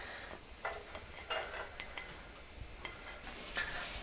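Garlic sizzling in olive oil in a pan, a soft steady frying hiss broken by a few light clinks and stirring scrapes.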